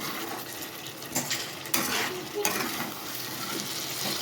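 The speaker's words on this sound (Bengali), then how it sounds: "সুন্দর করে মাংসটাকে একটু নেড়ে ছেড়ে নেওয়ার পর" Chicken curry frying in oil in a pan, stirred steadily with a spatula: a continuous close sizzle with a few louder scraping strokes, no talking.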